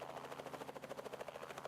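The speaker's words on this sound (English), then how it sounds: "Look at that red helicopter spin and then fly away." A red helicopter spins and flies away, its rotor giving a steady rapid chopping pulse that stays faint and even throughout, with no voices.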